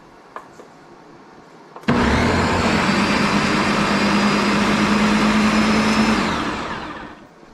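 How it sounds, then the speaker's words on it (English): A kitchen blender purees hand-mashed homemade tomatoes for sauce: a few small clicks, then a loud, steady motor whir runs for about four seconds before winding down and fading out. "Now we're gonna blend some up here"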